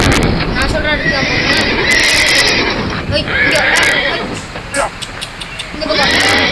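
A horse in the video game Minecraft neighs and whinnies repeatedly amid busy game noise, with loud voices talking over much of it.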